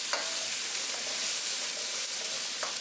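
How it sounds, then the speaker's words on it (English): Drained garbanzo beans sizzle in a hot pan as they are stirred, giving a continuous close frying hiss with a few faint scrapes, no voices. "And I'm going to add my garbanzo beans that I've drained. And there you go. Stir them around a little bit."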